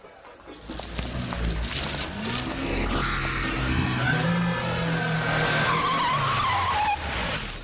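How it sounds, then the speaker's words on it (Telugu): A car arrives at high speed, its engine revving loudly before the tires break into a long, rising squeal as it skids to a halt nearby, with no talk over it. "మెరుపు వేగంతో కారు వచ్చాగింది."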